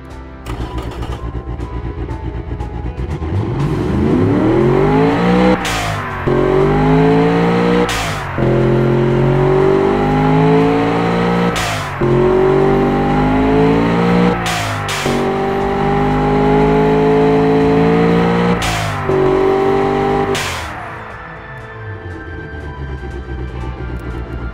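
A 1040-horsepower twin-turbo pushrod engine with two valves per cylinder revs repeatedly, rising and falling in loud sustained pulls broken by sharp cracks, then settles to a lower idle.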